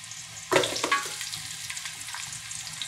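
White onions dropped into a hot pan for pinakbet, a sharp burst of sizzling on contact that settles into a steady, close frying crackle, with no talk.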